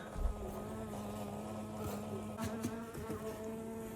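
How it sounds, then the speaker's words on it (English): Bees swarming in a hive lodged inside a chimney, a continuous low buzzing hum heard close and fairly quiet, with a few brief knocks over the drone. "what I think is a beehive in the chimney"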